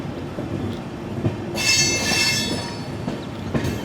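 A passenger train rolling into a loop line platform at Jamnagar station in Gujarat, a steady rumble of wheels and wagons with a loud, high metallic wheel squeal rising in the middle, heard from aboard.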